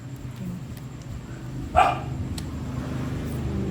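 A single short dog bark, fairly distant, heard over a steady room hum and background chatter during a card game of tongits.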